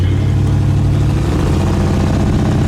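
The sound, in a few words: classic car engine exhaust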